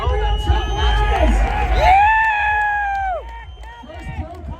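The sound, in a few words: crowd cheering and applauding BMX contest winner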